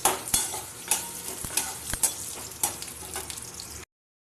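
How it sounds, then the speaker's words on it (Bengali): Onion, radhuni seeds and dried red chillies fry in oil for dal, a close steady sizzle punctuated by rhythmic spatula scrapes and clinks against the pan. "এবার পেঁয়াজ রাঁধুনি আর শুকনো লঙ্কা ভালো করে নিয়ে ভাজা করে নিতে হবে"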